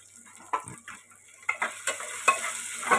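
Onions fry in a pan with a soft sizzle while a utensil stirs them, making about half a dozen sharp scraping clacks at irregular intervals, close and fairly quiet.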